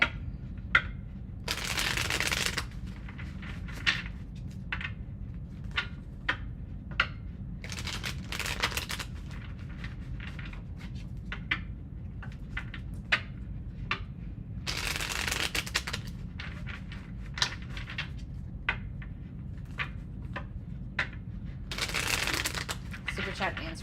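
Tarot cards shuffled by hand, with several loud bursts of riffling cut by soft taps and card handling in between, close up over a quiet room, with some talking present.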